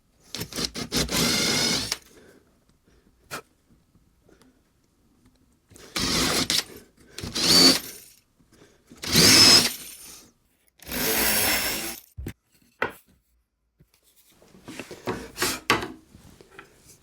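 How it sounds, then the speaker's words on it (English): A drill with an 8mm bit bores holes for M8 T-bolts in several separate bursts of loud, harsh whirring and grinding, each lasting one to two seconds, with quiet pauses between them. "I'm going to be using M8 T-bolts for this, so I use an 8mm drill bit."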